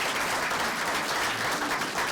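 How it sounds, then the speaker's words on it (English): At a policy breakfast on Boko Haram, a room of attendees claps for an Assistant Secretary, a short, dense burst of steady applause heard alone. "Let's have another round of applause for our Assistant Secretary."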